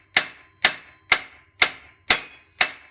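Six evenly spaced metallic taps from a medium-sized hammer striking a Detroit Series 60 12.7 cylinder liner, each a sharp ringing clang with a short decay, close and distinct with no talking.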